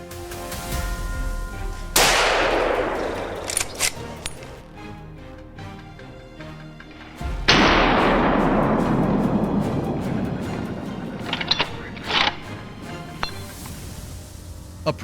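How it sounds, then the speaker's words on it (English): Two loud gunshots fired during a boar hunt in leafy woodland, each cracking sharply and rolling into a long, decaying echo, with faint rustles and small knocks between them. "The gunshot echoes, sending the herd scattering in panic"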